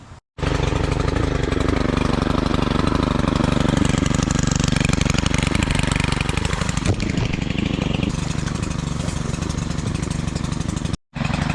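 A hedge trimmer attachment cutting vegetation on a creek bank runs as a loud, close, steady engine drone. The motor is continuous with small variations in load and two abrupt brief cutoffs, and no voices.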